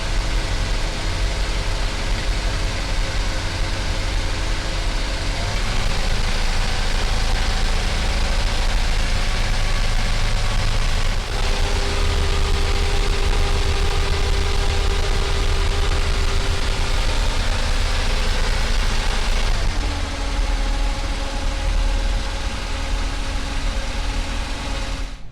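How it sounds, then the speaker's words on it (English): A 2002 Maxum 2400SD 24-foot bowrider's inboard engine runs at a steady, loud idle for about 25 seconds, its low rumble shifting pitch slightly a few times without any voices. "let's fire up this motor and watch her run"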